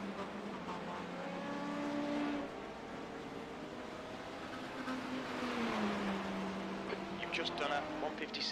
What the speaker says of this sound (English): It's a faster car approaching.